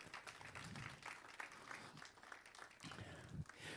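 A church congregation applauding in gratitude, a faint, distant patter of many hands clapping steadily throughout.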